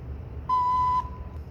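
A small wooden stopped organ pipe, blown by mouth, sounds one short, soft, pure tone over a low hum of room noise.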